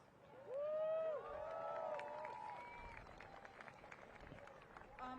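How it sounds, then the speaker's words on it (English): Outdoor protest crowd in Washington, DC, against Russia's invasion of Ukraine applauding a speaker, a steady wash of clapping with whoops and raised voices over it for several seconds. "Please give him a round of applause."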